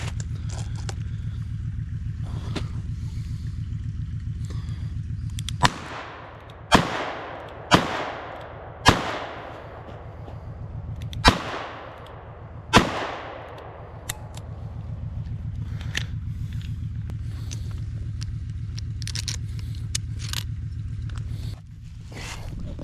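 Gunfire from a .38 caliber firearm hitting milk cartons outdoors: six sharp cracks spread over several seconds over a steady low hum, with faint clicks and movement between them.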